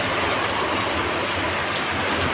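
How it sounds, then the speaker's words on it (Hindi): Heavy rain pouring in Shillong, a dense, loud, unbroken hiss of drops close by with a faint low rumble beneath. "थोड़ा बहुत ज़्यादा बारिश दे रहा है।"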